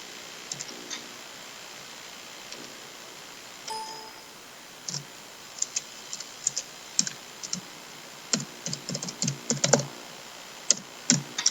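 Scattered keystrokes on a computer keyboard, sparse at first then quicker bursts of clicking, close and fairly quiet against a soft background hiss.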